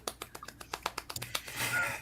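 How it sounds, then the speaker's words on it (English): Soft, quick golf clap, a dozen or so light, evenly spaced pats close by, trailing into a brief rustle at the end. "Golf clap."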